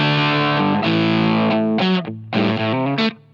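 Heavily distorted electric guitar playing sustained chords and notes, loud and thick with high gain, with brief pauses between phrases.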